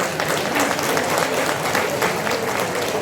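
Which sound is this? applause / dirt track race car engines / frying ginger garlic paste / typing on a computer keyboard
applause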